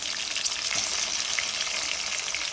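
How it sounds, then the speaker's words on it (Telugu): Finely chopped green chillies and onion frying in hot oil in a pan, a dense, continuous close sizzle with a faint stir partway through. "రెండు మూడు సన్నగా తరిగిన పచ్చిమిర్చి మరియు ఆనియన్ వేసి ఫ్రై చేసుకోవాలి"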